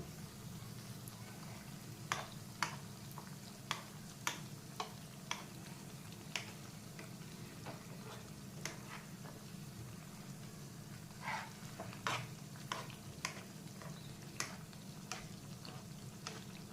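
Burger tikki patties sizzling in a pan on a gas stove, a steady low frying hiss dotted with sharp scattered crackles and pops from the hot oil, close and fairly quiet, no voices.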